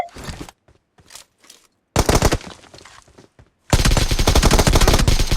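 AK rifle gunfire from the PUBG video game comes in loud, rapid automatic bursts separated by short pauses, ending in a long sustained volley.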